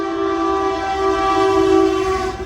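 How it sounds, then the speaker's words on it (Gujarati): A passing train roars loudly past a halted train at the Ratanpur border station between Gujarat and Rajasthan, with a steady tonal horn-like drone held close and continuous throughout. "બીજી ટ્રેન અહીંથી પસાર થઈ છે અને બહુ ઘોંઘાટ થયો છે"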